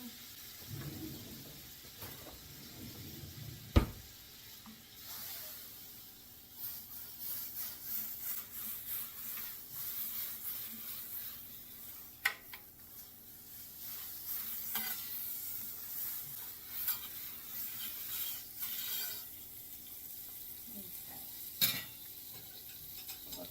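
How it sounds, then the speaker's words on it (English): Butter melts and sizzles on a large flat top griddle with a steady soft hiss, broken by a few clanks and scrapes of a utensil against the metal, fairly faint and with no talking. "A good amount of butter because we have a large flat top here. So let that start melting."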